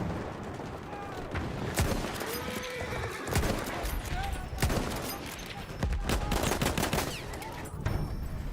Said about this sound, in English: I hear the horse.